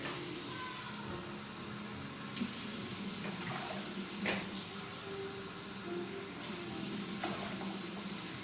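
Water runs and splashes steadily into a container, a continuous hissing pour with a few small clinks, fairly close and with no talking.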